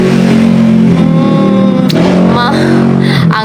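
A loud motorcycle engine rumbles close by, holding a steady drone and then rising and passing, with a voice faintly underneath.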